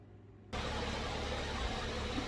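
Car engine idling after its squeaky serpentine belt was sprayed, starting abruptly as a steady broadband roar that stays constant and close, with no belt squeal audible.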